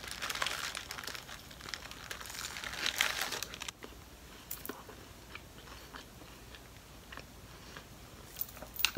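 A Taco Bell taco is bitten and chewed close up, with crinkly wrapper rustles and crunchy bites early on, then quieter intermittent chewing.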